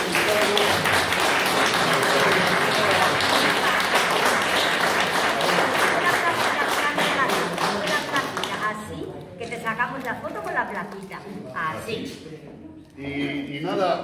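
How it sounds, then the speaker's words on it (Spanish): A crowd gathered for Lisardo Sánchez Polo's hundredth birthday celebration in Villarino claps in a loud, dense burst that fades after several seconds, giving way to scattered claps and people talking. "quiero un fuerte aplauso para Lizardo en compañía de su familia"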